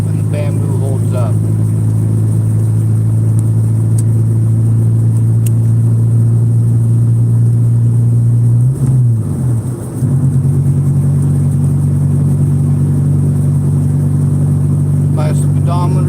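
A car carrying a load of bamboo on its roof drives along with a steady, loud engine drone; the pitch dips and resettles midway as it shifts and picks up speed again.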